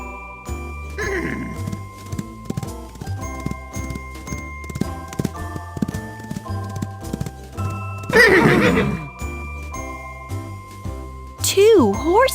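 Cartoon horses whinny twice in a toddler farm counting game, the neighs rising over cheerful jingling music with clip-clop beats and a steady bass pulse, loud and near.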